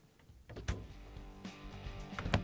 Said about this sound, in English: now when we're done, we can close the doors